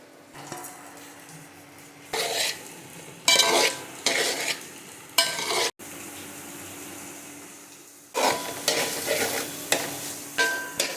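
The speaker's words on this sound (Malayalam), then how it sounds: "ഇനി നമുക്ക് ചതച്ച് വെച്ച കുരുമുളക് 3 ടേബിൾ സ്പൂണും 2 ടേബിൾ സ്പൂൺ വെളിച്ചെണ്ണയും ആഡ് ചെയ്ത് കൊടുക്കാം" Elephant yam being stirred in a pan with crushed pepper and coconut oil, giving repeated bursts of scraping and sizzling separated by quieter pauses, close and fairly loud with no talk.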